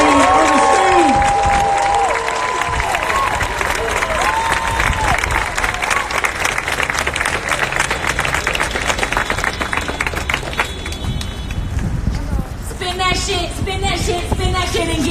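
An audience at a real estate talk gives a loud round of applause mixed with crowd noise and some cheering. It carries on steadily and fades toward the end, where a voice and music begin to come through.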